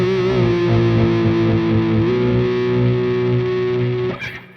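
Distorted electric guitar through the bridge pickup of a Sire J3, one sustained chord ringing steadily for about four seconds before it is cut off, loud and close with no talking.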